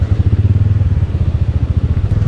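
A motorcycle ridden over large rocks through a water crossing on a rough road in Naltar Valley, its engine chugging in a steady loud rhythm up close, with light clatter and no talk.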